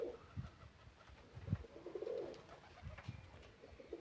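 Faint, low cooing from pigeons nearby, several soft repeated coos spread across a few seconds with light background hiss.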